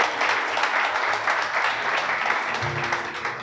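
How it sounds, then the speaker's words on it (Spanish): A church congregation breaks into applause during a sermon, steady dense clapping held at an even level for a few seconds before easing slightly at the end. "Dale un aplauso al Creador."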